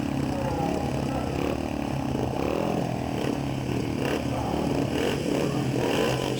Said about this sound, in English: The bikes are revving away and away they go.